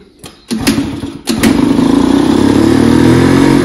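A motorcycle with a clogged part recently replaced is cranked a few times in short bursts, then catches and settles into a steady, loud, close idle with the choke held.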